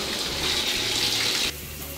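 Hot water gushes steadily from a tap in a New York home, a bright hiss that drops sharply near the end as the flow is cut back, with no one speaking.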